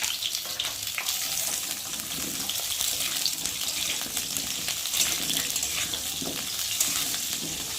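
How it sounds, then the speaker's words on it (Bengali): Lentils (dal) being rinsed with water in a kitchen, a steady rushing splash of running water with small sloshing and stirring accents, close and fairly even from start to finish. "এখন আমি জল দিয়ে ডালটাকে ভালো করে ধুবো।"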